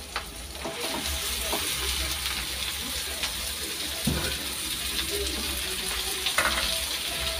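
Meat is tipped straight into a pan of frying onions and stirred, giving a steady close sizzle broken by scraping stirs and soft wet thumps. No one speaks.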